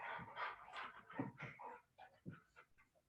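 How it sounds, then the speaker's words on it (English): Pet dogs whimpering and whining close by, a run of high, wavering cries and yips in irregular bursts that fade in and out over a few seconds. "My dogs decided to join me."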